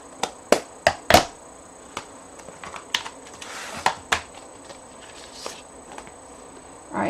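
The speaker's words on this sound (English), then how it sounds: "now let me die cut because I did not get a chance to die cut these ahead of time" A die cutting machine cuts paper leaves with a series of sharp, dry clicks and ratcheting snaps. They come close and irregularly spaced, bunched at the start and thinning out over several seconds, with no talk.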